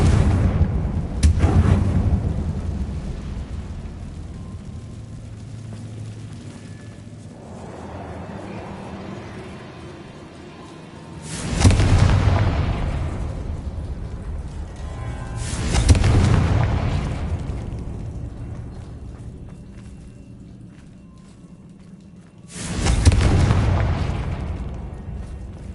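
Confringo explosion spells from the Hogwarts Legacy video game go off as three or four loud, booming blasts spaced several seconds apart, each a sharp bang trailing into a rumbling decay, with quieter ambience between.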